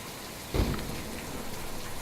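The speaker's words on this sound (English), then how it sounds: "Loud rain." Heavy rain in the video game Kentucky Route Zero pours as a steady loud hiss, with a brief low thump or rumble partway through.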